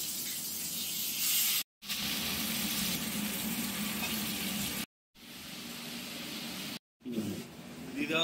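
Raw jackfruit pieces sizzle and hiss steadily in a hot pan while a jackfruit and prawn curry cooks, broken by a few abrupt silent cuts and no talking.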